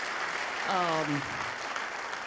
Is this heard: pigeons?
no